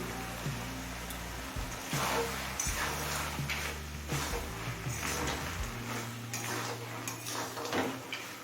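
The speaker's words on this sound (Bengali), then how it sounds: "বড়িটা দিয়েও ভালোভাবে মিশিয়ে নিচ্ছি" A utensil mixes fried lentil dumplings into cooked pumpkin greens in a pan, giving a steady run of scraping, clinking metal on the pan with soft rustles, close and moderately quiet.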